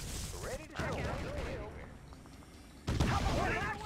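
Gunfire from a battle in Red Alert 2, a real-time strategy game, crackling in bursts amid game sound effects and narrator-style unit announcements, with a sharp louder volley near the end.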